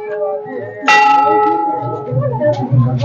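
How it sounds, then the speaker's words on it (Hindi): A temple bell at Kot Bhramari temple during the Nanda Ashtami fair is struck once, ringing out loud and close with a bright metallic tone that lingers and fades under crowd murmur. "सामने सब मंदिर की घंटी है"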